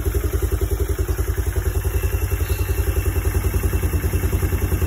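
A rough-running small engine, just started with a bit of choke, chugs steadily and close by in a fast, even thumping rhythm, with no one talking over it.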